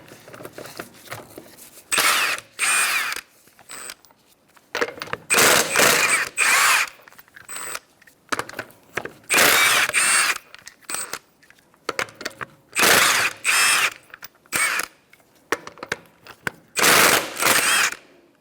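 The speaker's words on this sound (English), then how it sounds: "Using a 21mm socket, we're going to take off our wheel." A power tool fitted with a 21mm socket spins lug nuts off a wheel of a 2014-2019 Kia Soul in repeated loud whirring bursts of about a second each, close by, with short quiet gaps between them.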